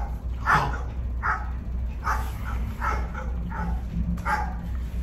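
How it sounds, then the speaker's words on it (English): A dog barks in a recording, about seven sharp, evenly spaced barks close to the microphone over a low steady hum, with no talking. "We all have a dog, or at least a neighbor who has a dog, and it's always barking."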